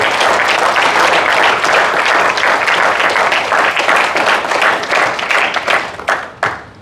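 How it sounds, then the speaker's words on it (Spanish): A Spanish-language church congregation gives a loud, dense round of applause. It holds steady for several seconds, then thins into scattered claps and fades at the end. "Un aplauso al Señor"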